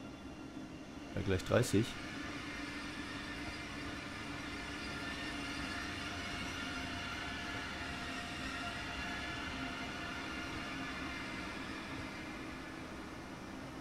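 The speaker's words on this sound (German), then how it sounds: "Da fährt er, unser ICE." An ICE train in Train Sim World 2 rumbles along in a steady, muffled drone that stays even from start to finish, with a brief spoken remark near the beginning.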